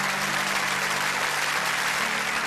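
A church congregation applauds a student, Ansamol, with steady, dense clapping that stays loud and even from start to finish, and a low hum runs underneath.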